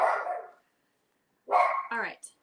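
A dog barks in a room during a crafting session, a short burst at the start followed after a pause by a louder run of barks and yips, with no talk over it.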